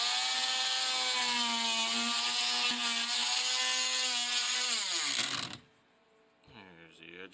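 A power tool cuts into drywall to reach a wire, its motor whining loud and close with a steady pitch that drops as it spins down and stops, followed after a short pause by a brief restart.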